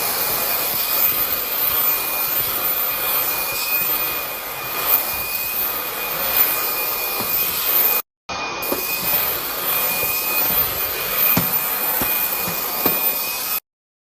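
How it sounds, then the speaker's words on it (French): Hoover cordless vacuum cleaner running at full power indoors, a loud continuous whine and rush with a steady high tone, briefly cut off once and then stopping at the end. "c'est l'aspirateur que j'ai acheté, la marque Hoover"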